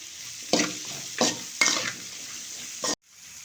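Capsicum stir-fried in a pan for chilli chicken Manchurian: four sharp bursts of sizzling as the spatula scrapes and tosses, each fading quickly, before a sudden cut to near silence.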